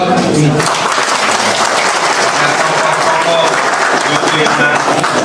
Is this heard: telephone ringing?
no